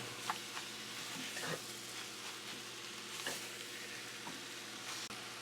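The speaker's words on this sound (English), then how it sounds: "You have to mix it constantly so nothing sticks under the bottom of the pan." Mutton curry sizzling and frying in a pan while being stirred constantly, a steady close hiss with soft scraping strokes and no talk.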